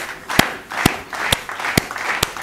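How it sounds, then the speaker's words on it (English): A church-style gathering applauds a pastor with a handful of loud, separate claps spaced about half a second apart over a murmuring hall ambience. "Please, can we clap for him?"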